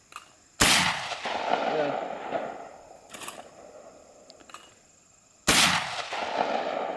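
A Beretta Super Black Eagle III shotgun fires target loads outdoors: two sharp, loud blasts several seconds apart, each trailing a rolling echo, with a fainter shot or two in between.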